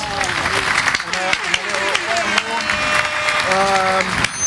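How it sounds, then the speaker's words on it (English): Round of applause around a talk show table at a community celebration weekend, moderate clapping heard under overlapping voices and clattering noise. "Give you a round of applause."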